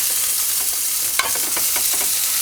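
Seafood sears in a hot pan with a steady, bright sizzle and crackle, close and loud, with a few sharper pops and spatters partway through and no talking.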